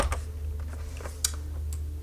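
Sparse keystrokes on a computer keyboard while writing text in Microsoft Word, a few scattered clicks over a steady low hum, with one sharper tap partway through.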